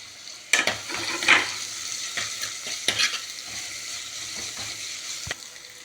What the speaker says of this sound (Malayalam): ഈ വെളുത്തുള്ളി ഇഞ്ചി ഇടുകയാണ്, അതിൻ്റെ കൂടെ തന്നെ കറിവേപ്പില